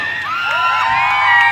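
An audience at a live stage event erupts in hooting and whooping, overlapping voices rising in pitch and growing louder into a dense, close crowd roar.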